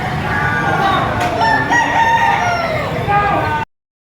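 Several young bull stag roosters crow loudly and continuously at a rainy Padre Garcia, Batangas livestock market, their overlapping calls filling the space with steady crowd noise beneath.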